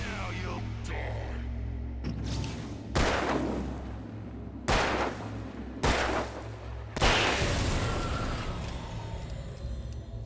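Gunfire in the video game Alan Wake: several loud, sharp shots at irregular intervals over a low droning background, with a heavier blast near the end.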